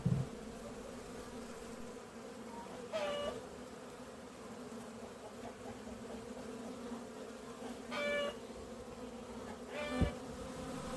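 Honeybees buzz in a steady, low drone around an opened beehive during an inspection, with a few brief clicks and knocks of frames mixed in.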